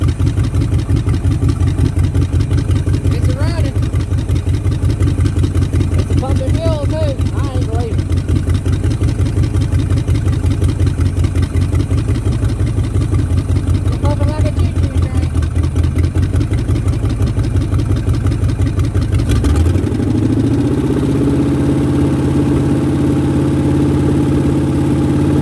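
A 1969 Ford Mustang engine that sat in the rain for 21 years runs loud and steady at idle up close, fed from a gravity bottle, with a shift in pitch near the end and voices talking over it.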